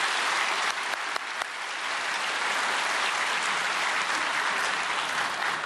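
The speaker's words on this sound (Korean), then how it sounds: "나오실 때 우리 큰 박수로 환영하시겠습니다." A church congregation breaks into big, sustained applause welcoming a pastor to the pulpit at a prayer meeting for peaceful reunification, a dense steady clatter of many hands filling the room without letup.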